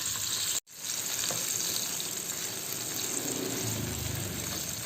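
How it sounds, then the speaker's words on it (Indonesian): Shallots fry in hot oil with a loud, dense, continuous sizzle throughout, briefly cut off by a short gap near the start, then steady crackling with faint stirring and no talk. "Jadi bawang merah aku akan goreng dulu."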